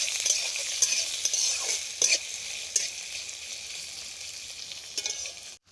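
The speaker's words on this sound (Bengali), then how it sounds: "দেখুন, আমার পেঁয়াজটা হালকা করে ভাজা হয়ে গেছে" Chopped onions fry lightly in a pan, a soft steady sizzle broken by several sharp scrapes and clinks of a spatula stirring, ending abruptly.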